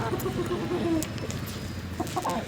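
A rooster clucks in short, repeated bursts close by, with a few other faint fowl calls and background noise around it.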